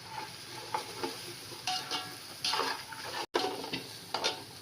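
Red chilli powder and Byadgi chilli powder tipped into hot oil while cooking veg biryani, giving a close, steady sizzle with brief bursts of stirring and scraping, no voices.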